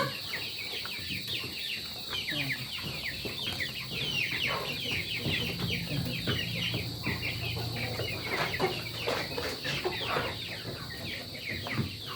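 Pet chickens, including Rhode Island hens, cluck and chatter busily as they are fed, a steady mix of overlapping clucks and calls at close range.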